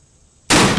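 One abrupt, loud report from a Colt Single Action Army .45 revolver with a 7.5-inch barrel, fired close by after near silence, its blast holding briefly before the clip ends.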